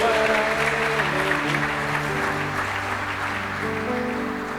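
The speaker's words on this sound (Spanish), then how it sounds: "Denle aplausos al Señor." Church congregation applauding during a Sunday service, sustained clapping mixed with music tones underneath, fairly loud and steady as it slowly tapers.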